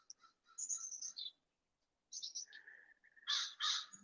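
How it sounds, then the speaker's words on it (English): Crows caw several times in the background of a quiet outdoor setting at a chatty time of day. The harsh calls come in short clusters at a moderate distance with gaps of silence between them. "You probably will be hearing lots of crows in the background. They get really chatty this time of day."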